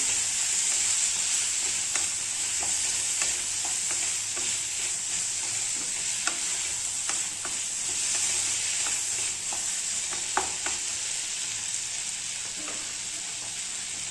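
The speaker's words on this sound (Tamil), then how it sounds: "தேங்காய் போட்டு கொஞ்சம் நல்லா வதக்கிக்கலாம்" Grated coconut sautéing with onion and tomato in a pan for a brinjal curry gives a steady, fairly quiet sizzle, broken by soft scraping clicks of a spoon stirring, with no voices.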